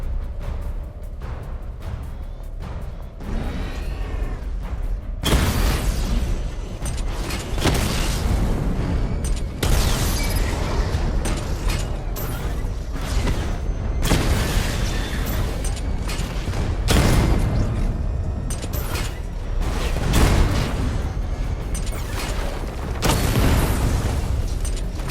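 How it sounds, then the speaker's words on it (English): Missile barrage explosions fired in a diagnostic simulation in Batman: Arkham Knight, with booming blasts and mechanical whirs rolling almost continuously after a quieter opening, loud and dense with repeated surges. "Charge up missile barrage to level 2 and destroy 4 active targets to complete diagnostic test."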